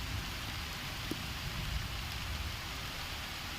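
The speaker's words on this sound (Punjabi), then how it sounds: "ਬਹੁਤ ਜ਼ਿਆਦਾ ਮੀਂਹ ਦੀ ਪੈਣੇ ਦੀ ਇਹ ਇਹ ਸਪੀਡ" Heavy rain pours down in a steady, dense roar with no break, close and loud throughout.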